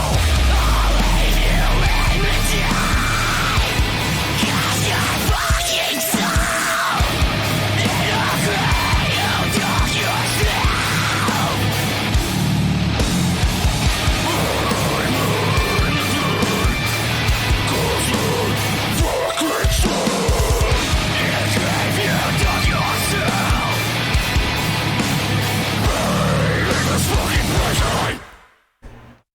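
Dense, loud heavy modern metal band recording with distorted electric guitar run through a whammy pedal, driving steadily for nearly thirty seconds under pounding drums and yelled vocals, with pitch-bent squeals scattered through the mix before an abrupt stop.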